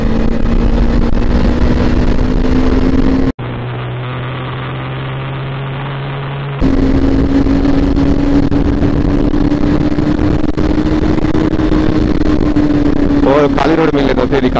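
A Bajaj Pulsar NS200 BS4 motorcycle engine runs steadily while riding, its droning mid-pitched note rising and falling slightly under constant wind rush, with a brief muffled stretch partway through.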